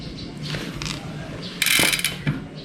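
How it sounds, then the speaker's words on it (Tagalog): A Sagmit M120 bicycle rear hub with six pawls and three teeth, its freewheel giving short bursts of rapid ratcheting clicks, close and clear, with a few soft mechanical knocks between. "I-check natin yung hub kung okay na yung tunog."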